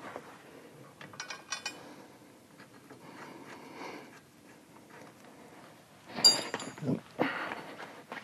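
Bolts being tightened during final assembly of a stunt Harley Dyna motorcycle: scattered metallic ratchet clicks and tool rattles in short bursts, with louder clanks near the end.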